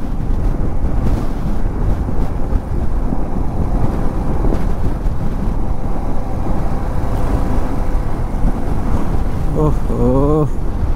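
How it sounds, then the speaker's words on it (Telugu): Heavy wind in Leh, Ladakh roars steadily across the microphone, a loud constant low-frequency buffeting, with a brief voice breaking through near the end. "టూ మచ్ ఉంది గాలి."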